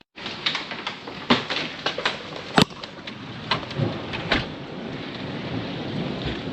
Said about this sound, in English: it's raining hard out here